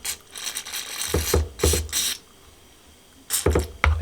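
Bursts of sharp mechanical clicking from a sticky bike shifter sprayed with brake cleaner, several quick ratcheting clicks in short groups, close up, with quiet pauses between.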